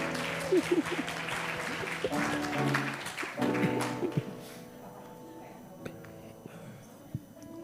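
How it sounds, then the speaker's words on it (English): Audience applause at a medical symposium featuring an improv performance: a burst of crowd clapping that swells, then tapers off and fades into quieter room sound with a few scattered claps near the end. "Give a round of applause."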